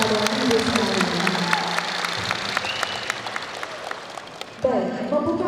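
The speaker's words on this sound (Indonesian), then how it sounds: "Jadi saya minta tepuk tangan yang meriah untuk Bapak dan Ibu sekalian." Audience applause at a national village assembly event, a dense crowd clapping for several seconds, with a voice talking over it and a louder voice cutting in near the end.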